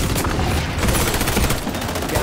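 Dense, continuous automatic gunfire and overlapping shots from an XDefiant online multiplayer firefight, loud and unbroken, with no clear voices over it.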